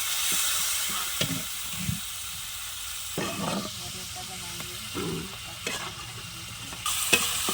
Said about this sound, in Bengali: ভালো করে মশলাটা কষিয়ে নিয়েছি